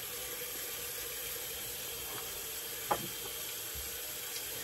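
Water runs steadily from a tap onto a hard puck of Hombres Barbershop shaving soap by CBL, a continuous close hiss with one brief knock partway through.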